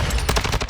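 A suppressed AUG rifle in a shooting video game fires a rapid string of muffled, close shots, about eight in under a second.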